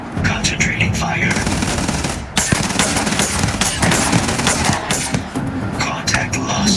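Sustained rapid automatic gunfire from a combat robot in Starfield, loud and continuous with bursts of dense shots, mixed with battle noise.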